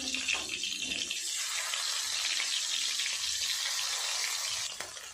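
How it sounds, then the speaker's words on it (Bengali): Fish with roe frying in hot oil, a steady close, loud sizzle that fills the whole clip with no talk. "এই মাছগুলো ভেজে নেবো একই রকম করে"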